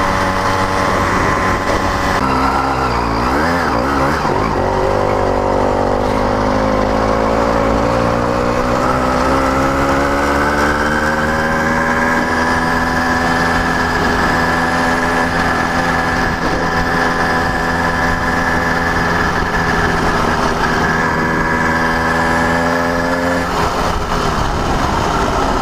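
A CDH110 110cc motorized bicycle engine climbs uphill at quarter throttle, a loud steady buzzing drone that rises in pitch early on and then holds an even whine up close for the whole ride.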